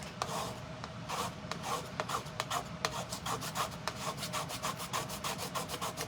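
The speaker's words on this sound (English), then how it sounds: "I'm just gonna start scraping this old paste off" Old paste scraped off a surface with a flat edge, a rapid, regular series of rasping strokes, close and continuous with no talking.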